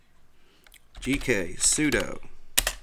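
Rapid keystrokes on a computer keyboard as a Linux terminal command is entered, clicking clearly in short bursts under a man's speech, with a sharp final key press near the end.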